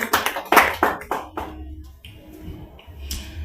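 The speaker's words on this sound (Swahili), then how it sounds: "Pigia Yesu Kristo makofi kwa sababu ndiye amesema ukweli." A group at a Bible teaching session applauds. A short run of sharp, scattered claps comes close by at first, then thins out to a quiet room.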